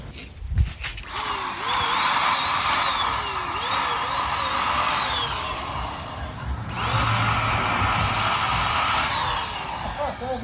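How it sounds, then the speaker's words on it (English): A paint spraying machine runs on grass while a 1997 Honda Integra VTi-R is being repainted, putting out a loud steady motor drone with a whining pitch that rises and falls, after a brief clatter at start-up. "he's about to start the machine"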